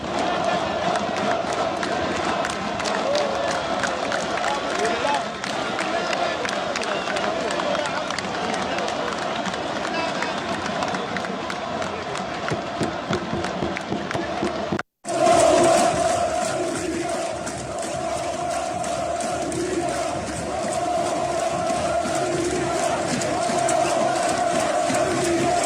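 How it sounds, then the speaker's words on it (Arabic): Algerian football fans chanting in a stadium after a match against Nigeria, a massive rhythmic roar of crowd voices filling the space, briefly cut off before resuming at full volume. "هتفت الجماهير الجزائرية لفلسطين الغالية وللأقصى وللشهداء"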